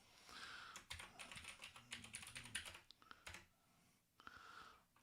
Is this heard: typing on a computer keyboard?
yes